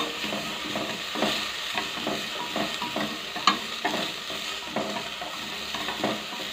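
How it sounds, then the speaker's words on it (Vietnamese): Dried shallots and garlic frying in a pot, a steady sizzle with repeated stirring scrapes and a sharp clink midway, close and loud without speech. "Phi thơm cái hành tỏi khô này cho cái nồi canh nó thơm ngon mọi người."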